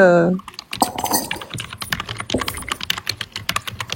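Rapid, uneven clicking of keys on a computer keyboard, close and fairly loud, with a voice speaking briefly at the start.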